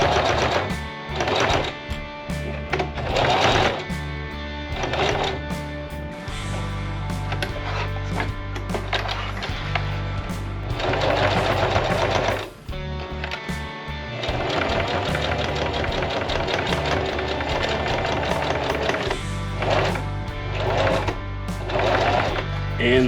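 A sewing machine back-stitches the corner of a DIY overland gear bag strap, running in loud rapid bursts that start, stop and restart with brief pauses between runs.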